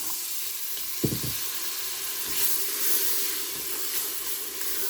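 Boiled chickpeas tipped into hot oil spiced with Shan chana masala, with a soft thud as they land, then a steady hissing sizzle that swells briefly and settles, close by and without talk.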